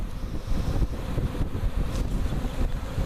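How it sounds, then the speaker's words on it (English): Wind blowing outdoors beside a honey bee swarm box, a steady loud rushing roar that buffets the microphone for the whole stretch with no voices. "Wind's blowing right that way."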